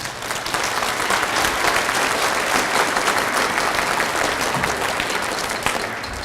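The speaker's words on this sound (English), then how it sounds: "Guys, can we give Mrs. Altizer a round of applause?" An audience at a 7th and 8th grade school orchestra concert applauds for a teacher, a steady, dense wash of clapping from a large crowd that swells in quickly and holds at full strength throughout.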